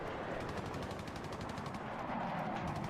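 Rapid bursts of automatic gunfire rattle on continuously in a video game shooter, fairly quiet and dense for a few seconds with no talking.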